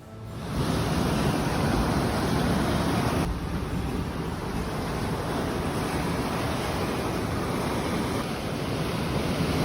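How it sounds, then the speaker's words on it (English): Dense, steady roaring wash of rushing floodwater after heavy rain in northern Arkansas, loud and continuous with no voices, like a torrent surging close by. "A strong rush of floodwater swept through northern Arkansas after heavy rain"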